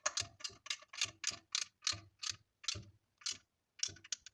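Torque wrench clicking and ratcheting while tightening bolts on a 1972 Firebird during a four-speed transmission reinstall, a quiet close series of about a dozen regular ticks with a brief pause before the last few.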